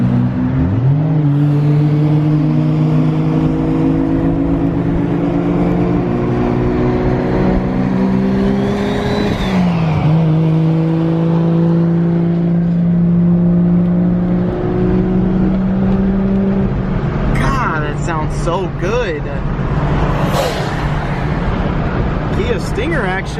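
A turbocharged import car accelerates hard through its gears, with repeated rising engine pulls and shifts at a moderate distance, then passes with whooshing flutter. People talk over the engine noise.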